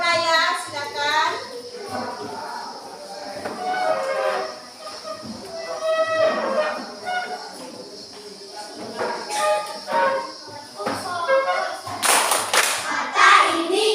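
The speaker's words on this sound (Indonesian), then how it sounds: "mari kita tepuk fokus dulu" Second-grade schoolchildren in a classroom do a rhythmic focus clapping chant, bursts of patterned claps mixed with chanting voices and spoken lines, growing louder toward the end.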